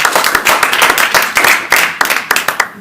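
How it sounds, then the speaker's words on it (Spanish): Listeners at a Rubén Darío poetry event clap loudly after a reading, uneven bursts of close-up hand claps that rise and fall in waves for about three seconds without speech. "creo que merece un aplauso"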